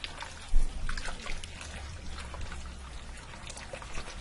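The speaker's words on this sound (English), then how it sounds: "I'm just going to stir this in here until it looks like it's the right amount." Gravy being stirred with a plastic whisk inside a Ninja cooker, soft continuous liquid swishing and sloshing close up, with one slightly louder dip near the start.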